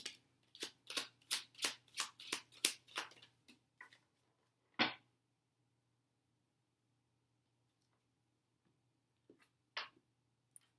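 A small angel oracle card deck is shuffled in a quick run of about ten crisp riffling bursts, followed by a few isolated card snaps spaced out against quiet, with no talking.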